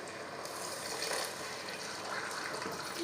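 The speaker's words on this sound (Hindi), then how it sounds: "थोड़ा पानी डाल लें जितने में चीनी घुल जाए" Water is poured into heated oil and sugar to make syrup for makhandi halwa, giving a steady, close rushing and splashing hiss that runs unbroken for about three seconds.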